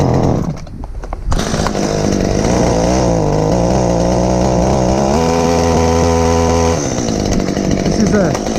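A chainsaw cutting firewood runs loud and close, its engine snarling at high revs in a steady drone for several seconds before the pitch drops.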